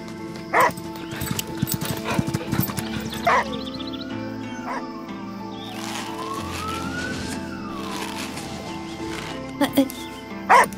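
A dog in the adventure game Last Day of June barks a few sharp times at the start, middle and end, over a background of game music and sound effects while people talk.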